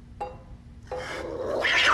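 A cat meows twice, the first call short and clear, the second longer and rising in loudness, over a quiet room background with rustling noise building toward the end.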